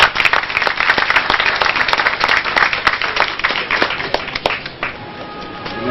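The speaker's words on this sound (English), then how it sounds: "Another round of applause, please." Audience applause at a commemorative hospital ceremony in Lagos, a dense burst of many hands clapping that fills the room, loud and steady before thinning toward the end.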